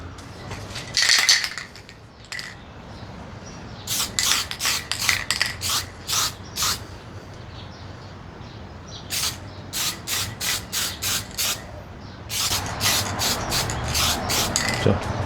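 Short bursts of aerosol spray paint hissing onto a rusty car wiper blade, first in a long run of quick rhythmic spurts, then a pause, then another rapid series of sprays close to the microphone.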